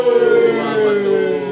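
Rotating siren on a road vehicle, a loud, close wailing tone that slides slowly downward in one continuous sweep, heard alone.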